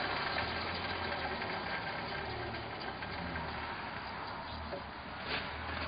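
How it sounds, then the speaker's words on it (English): A wood lathe runs with a spindle roughing gouge cutting into a bowl blank, making a steady, continuous drone and rumble with a rough, chattering texture throughout and no voices. "So I'll start the lathe up and I'll just show you what can happen."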